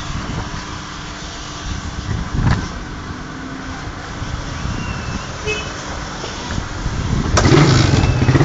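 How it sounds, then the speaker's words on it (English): A Raider 150 motorcycle engine rumbles steadily at idle, a brief surge early on, then revs up louder toward the end; no voices. "now we're gonna test to start the engine"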